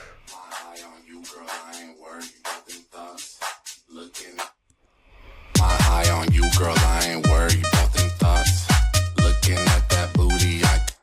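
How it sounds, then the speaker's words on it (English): Two reverbs together wash over a vocal track, first on sparse plucked or chopped hits, then under a fuller rhythmic section with steady punchy beats. The dense, sustained tail fills the spaces between the notes. "And this is how these two reverbs sound together."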